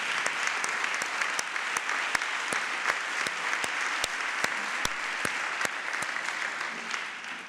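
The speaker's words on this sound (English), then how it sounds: "please stand and give them a round of applause" Steady applause from a crowd at an awards announcement ceremony fills the whole stretch, dense clapping with a few sharper nearby claps standing out, continuous and fairly loud.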